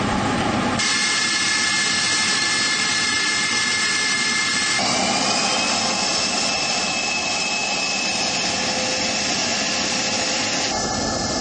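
The Sukhoi Su-35 fighter jet's engine gives a steady, loud roar with sustained whining tones that shift in pitch partway through, continuous for over ten seconds with no talking.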